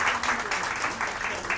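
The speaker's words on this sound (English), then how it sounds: "Let's give him a big round of applause and welcome to the stage." Crowd applause welcoming a speaker to the stage at the inauguration of a hospital electrophysiology lab, dense continuous clapping filling a hall, loud and unbroken throughout the brief moment.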